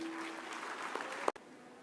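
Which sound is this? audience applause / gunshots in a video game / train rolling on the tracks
audience applause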